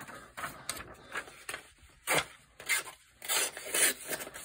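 A $5 Walmart knife slices through printer paper in a sharpness test, giving a series of short dry scraping and rustling swipes, each a quick burst, close and fairly quiet with no talking.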